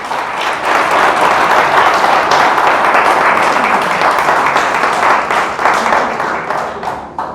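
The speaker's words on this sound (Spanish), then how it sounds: "Le damos un fuerte aplauso." Loud sustained applause from a church congregation during a sermon, a dense continuous roar of many hands clapping close by, with a few voices mixed in.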